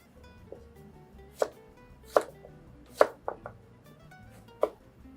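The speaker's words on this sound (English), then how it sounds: "So first off, you want to peel your potato. Then we're going to cut it into smaller pieces." A peeled Yukon Gold potato is cut into pieces on a cutting board, five sharp knife chops landing at uneven intervals, close and clear against a quiet kitchen background.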